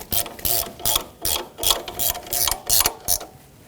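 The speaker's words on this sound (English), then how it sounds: "I'm going to continue with a wrench and just bring it close" A ratchet wrench clicks rapidly while running a torque strut mount bolt in on a 2012-2017 Toyota Camry 2.5L, about ten close, crisp ratcheting bursts in a quick rhythm.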